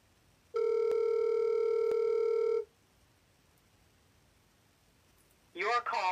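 A telephone call tone, a steady electronic beep lasting about two seconds, sounds over a quiet line, followed after a pause by the start of an automated recorded voice.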